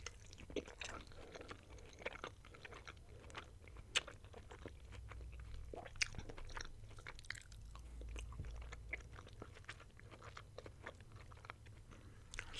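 Close, quiet chewing of poutine fries with gravy, soft wet bites and occasional crunches in an irregular rhythm with no talking.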